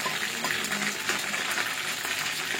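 Beef fries lightly in a pan, giving a loud, dense, even sizzle that holds steady for a few seconds close by, with no voices.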